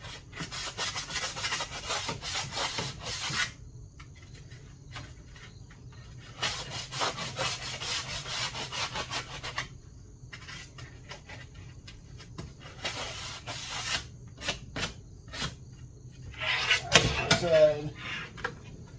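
Sanding by hand on the vent window track of a 1969 Chevy C20 truck, steady rasping strokes in bursts separated by short pauses, close and moderately loud, with a sharper scrape near the end.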